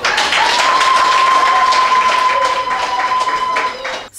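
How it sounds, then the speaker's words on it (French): A crowd claps loudly and steadily at a political rally in Sinendé and N'dali, Benin, with a long, thin sustained tone like a whistle or microphone feedback running through the applause before it tapers off at the end. "Vous pouvez témoigner à travers des applaudissements."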